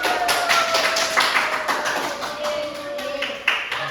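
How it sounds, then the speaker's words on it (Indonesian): Classroom applause after a student group presentation, a scattered round of hand claps close by, irregular and moderately loud, with faint voices underneath. "Beri tepuk tangan dulu."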